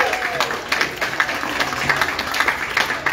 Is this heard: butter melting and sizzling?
no